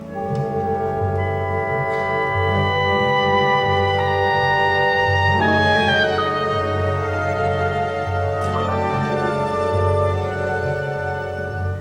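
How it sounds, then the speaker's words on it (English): An oboe solo from Debussy's Iberia, near the end of the movement Perfumes of the Night, plays a fine, sustained, slowly shifting melodic line over soft orchestral accompaniment, with no talking. "do you hear the sound of that oboe solo?"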